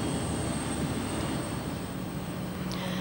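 A Tupolev 204 airliner flying at the Farnborough 1992 airshow, a steady broadband jet roar with a faint whine, continuous and fairly distant, with no voices.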